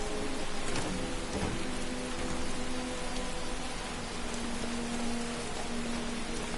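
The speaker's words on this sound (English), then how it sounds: "Confounded rain." Heavy rain pours in the video game Skyrim, a dense, unbroken roar of drops with a faint low rumble of thunder beneath, steady throughout and free of voices.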